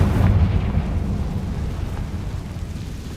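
A Confringo spell explosion in the Hogwarts Legacy video game: a deep, booming blast that rumbles loudly at first and then slowly fades into a low roar, with no speech.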